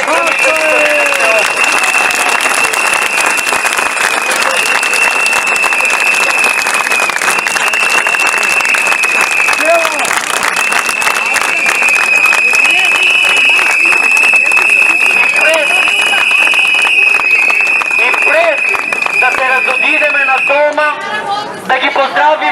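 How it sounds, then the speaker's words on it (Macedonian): A protest crowd outside a police station claps and cheers steadily for about twenty seconds, a dense wash of applause mixed with chatter and a sustained whistle or tone running through it. "Еден аплауз за сите вас, драги слушатели."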